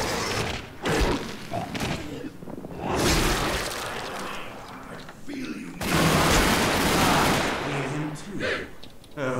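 Gunfire in The Darkness II comes in bursts of loud, dense shots and thuds that recur through the stretch, mixed with other game noise and a voice talking over it.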